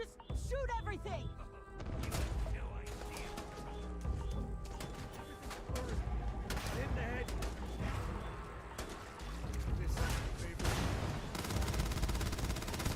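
Gunfire from a large-magazine gun in a video game, with rapid repeated shots and clattering bursts running steadily throughout amid chaotic game noise, while someone talks over parts of it.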